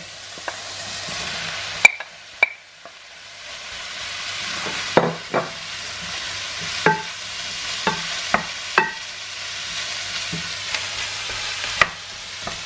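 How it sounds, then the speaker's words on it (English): Mushrooms tipped into a pan of softening onions, a steady low sizzle under scattered stirring and scraping knocks from a utensil, with louder clatters now and then throughout. "So the onion's starting to soften, so I'm going to add the mushroom now."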